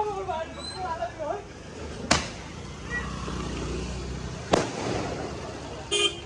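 Two sharp firecracker bursts ring out during Diwali night near Panvel, India, a third crack at the end, over steady outdoor crowd noise, passing traffic and occasional horns, with people talking in the background.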